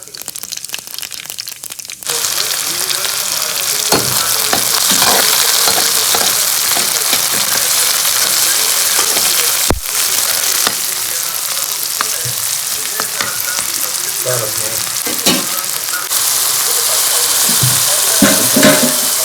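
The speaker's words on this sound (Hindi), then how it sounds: "मैं कर रही हूँ मटर पनीर फ्राई कर रही हूँ" Matar paneer fries in a pan with a loud, continuous sizzle, broken by the scrape and clatter of stirring and a sharp knock partway through.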